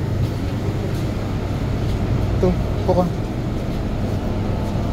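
Steady low rumble and hum of a Hong Kong light rail train in motion, heard from inside a carriage, with a person speaking briefly over the noise.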